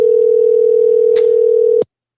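A steady, loud telephone dial tone holds continuously for almost two seconds, briefly overlaid by a short noisy rustle before it cuts off abruptly.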